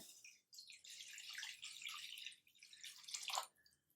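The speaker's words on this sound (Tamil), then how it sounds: "அதே கடாயில் 4 கப் தண்ணி ஊற்றுறேன்" Water poured from a cup into a kadai on a home stove, a soft splashing trickle with a few brief pauses, quiet and close with no talking.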